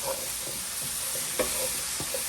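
Potatoes with fenugreek stirred in a hot pan, soft scraping strokes repeating over a constant bright sizzle of frying.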